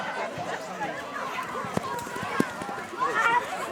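Children set off in a 310 m race at a family parish festival, their running feet blending with a crowd's chatter and shouts for several seconds.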